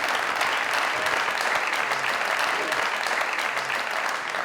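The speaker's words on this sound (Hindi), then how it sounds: "पहले जो तालियां बजाई आपने वो उस अदाकार के लिए बजाई जो यहां आ रहा था" Studio audience applause at a comedy talk show taping, a steady dense wash of clapping that holds loud and even throughout with no pause.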